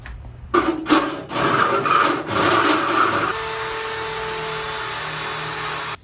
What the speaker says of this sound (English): drill and hope then.